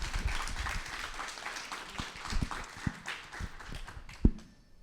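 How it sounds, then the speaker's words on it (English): Audience clapping at a live conversation event with Dr. Meranda Roberts, a steady wash of many hands through most of the stretch with a few sharper close claps, thinning out at the end. "Let's give another round of applause to Dr. Roberts."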